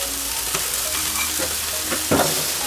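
Chicken wings frying with unsalted butter and lemon pepper on an open fire, a steady close sizzle throughout with a few scraping stirs and a brief louder burst near the end.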